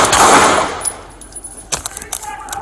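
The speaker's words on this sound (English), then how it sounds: "Shots fired." Gunfire during a police shootout: a burst of sharp reports near the start, then several scattered loud cracks and clangs across the remainder, with no one talking.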